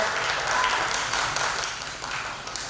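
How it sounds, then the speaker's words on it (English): Audience applause for a pinup contestant at a patriotic vintage pinup contest, a steady, dense wash of clapping from a crowd that holds for a few seconds without a clear voice above it. "Give Mandy a round of applause, everybody."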